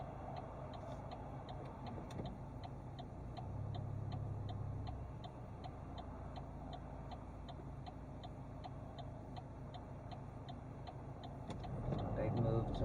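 A car's turn-signal indicator ticks steadily and evenly inside the cabin during a driving lesson, a faint regular click running the whole length over a low engine hum, with muffled talk underneath.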